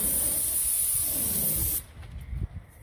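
A paint spray gun coating a garage door hisses in one steady, close burst, then cuts off, leaving a few soft handling knocks.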